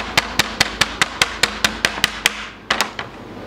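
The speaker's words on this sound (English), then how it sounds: "You can take a chocker hammer and just lightly bash them." A choker hammer lightly taps thick, fleshy bait strips for a fishing trace, striking about a dozen times in an even rhythm. A short pause follows, then two quick final blows, all loud and close.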